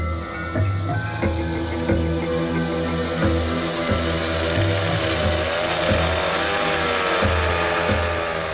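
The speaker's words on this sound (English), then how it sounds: "any hillside provides evidence of poaching and the distant sounds of trees being cut." A distant chainsaw cuts trees on a Thai hillside, its engine droning steadily with shifting pitch as the saw bites and eases, carrying alone without voices.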